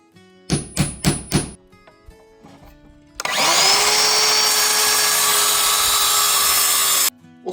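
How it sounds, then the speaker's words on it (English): A screw is driven into a timber door frame while fitting architrave, with a few sharp rhythmic knocks followed by a loud, steady whine from a power drill that runs continuously for several seconds, close up. "I just bang a screw in there."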